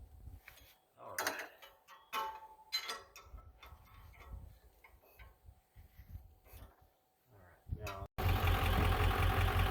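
1995 Ford F Superduty with Powerstroke diesel engine running, a faint irregular ticking and knocking under intermittent clanks and handling noises, then a loud steady diesel clatter.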